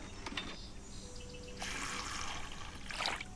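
A watering can pours water in the Solarpunk video game, a quiet hissing trickle that comes in uneven bursts and grows a little louder toward the end.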